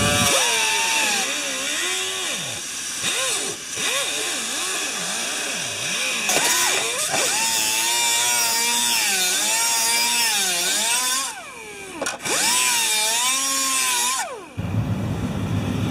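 A Biteharder tool grinds blunted carbide trail studs in a circular motion, a loud close whining drill tone that rises and dips in pitch in sweeping waves, briefly cutting out twice before stopping.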